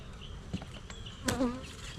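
Honey bees buzz around an open hive during an October inspection, with a couple of close individual fly-bys rising briefly over a low, steady outdoor background.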